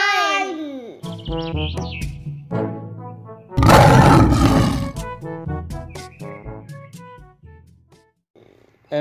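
A lion gives a loud, rough roar, lasting a few seconds, in the middle of a children's alphabet song, with music and chirpy sound effects around it.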